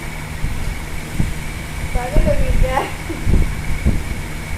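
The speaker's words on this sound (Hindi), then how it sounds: "कूलर की आवाज़ आ रही है" Steady whir of a household air cooler running indoors, a constant broadband drone with a faint tonal hum, heard under people talking nearby.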